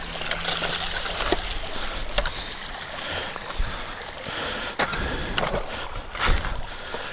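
Water splashes and drains off a pool cleaning robot as it is lifted out of a swimming pool, irregular trickling and dribbling with a few sharper splashes throughout.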